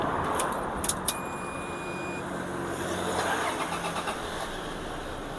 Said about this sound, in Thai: สตาร์ทรถนะครับ